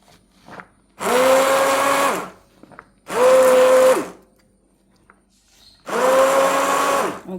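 A kitchen blender purees watermelon for juice, whirring loudly in three steady bursts of about a second each, separated by short quiet gaps.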